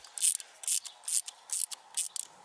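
A ratchet snugs down bolts on a 5.0 Jaguar XK coupe, giving quick bursts of dry clicking in a regular back-and-forth rhythm, with six close, crisp strokes and short pauses between them.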